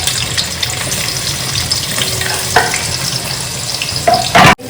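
Onions deep-frying in oil on high flame for prawn biryani garnish, a loud dense crackling sizzle throughout with occasional stirring clatter and a sharp utensil knock near the end, close by, no talking.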